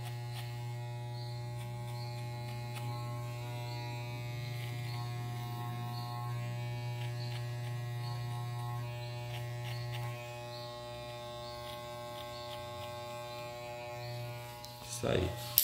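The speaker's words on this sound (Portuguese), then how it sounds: "Agora subi na maquininha," Close electric hair clippers hum continuously while a barber works a fade haircut, the steady buzz dropping slightly partway through, then a brief clatter of handling at the end.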